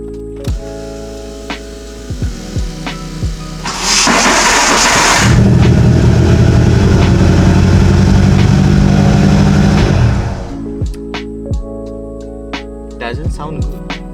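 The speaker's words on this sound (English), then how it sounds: "We're gonna start up the car with the new starter." Car engine with a new high-speed starter, heard as a sharp whirring crank that catches into a loud running idle for several seconds, then settles back, with clicks and handling noises before and after.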